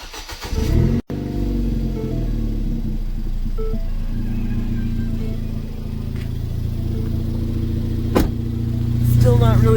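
A Ford Fiesta ST with a straight-piped exhaust idles with a deep, steady drone, then gets several short revs and blips toward the end, heard close and fairly loud with some background chatter.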